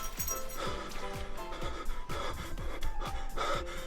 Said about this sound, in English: This is just somebody panting